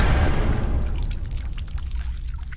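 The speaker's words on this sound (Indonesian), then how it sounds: "Kemudian Jennifer memasukkan soda api ke dalam bak mandi" Caustic soda is poured into a bathtub in a film scene, a loud, close rushing pour that gradually thins into softer trickling and splashes.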